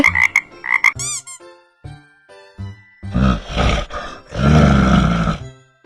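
A deep, rough bear roar builds in two long, loud swells, following a few rapid frog croaks and short tones at the start, in an animated clip.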